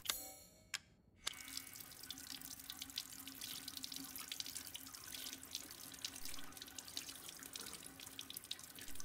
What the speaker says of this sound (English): here I can wash the blood of the ring.